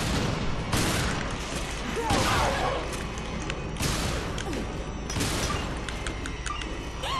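Gunfire in the video game Resident Evil Revelations, several loud broadband bursts of shots and booms spread across the scene, with voices talking faintly between them.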